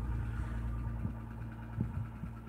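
A car's engine idles steadily during an auction preview, a low throbbing hum with a few soft bumps, close and continuous with no talking.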